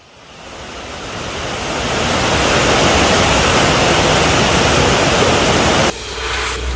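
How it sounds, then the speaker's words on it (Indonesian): Floodwater from an overflowing river rushes during a flash flood in Pidie Jaya, Aceh. A loud, dense, continuous roar builds over the first seconds, then holds steady and drops slightly near the end. No voices are heard. "Banjir bandang kembali menerjang Kabupaten Pidijaya Aceh. Air sungai meluap dan merendam ratusan rumah warga"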